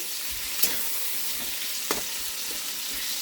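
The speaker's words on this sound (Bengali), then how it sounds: "সবজিটা ভাজা হয়ে গেছে, একটু টমেটো দিয়ে দিচ্ছি।" Tomato goes into a pan of frying vegetables, a steady loud sizzle punctuated by two quick spatula scrapes as it is stirred in, with no talking.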